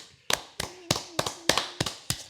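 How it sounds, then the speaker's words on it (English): Seven sharp hand claps in a slow, steady rhythm, loud and close, with a faint voice briefly underneath. "Let's all clap for Chelsea."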